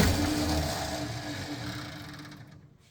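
A Ford F100 truck engine catches and runs on its own with the starter disconnected, a steady close-up rumble that holds for a few seconds, then fades and sputters out as it starves for fuel.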